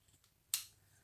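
A single crisp snip of scissors trimming card for a Christmas tri-fold card, close and sharp in an otherwise quiet room.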